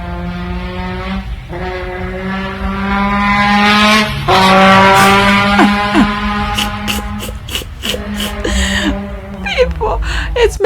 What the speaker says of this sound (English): It's making a motorcycle sound.